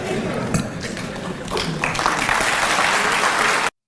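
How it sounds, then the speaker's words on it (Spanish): An audience applauds Argentine president Milei, a loud sustained burst of clapping from a large crowd that swells midway and then cuts off abruptly. "Hasta lo aplaudieron a Milei"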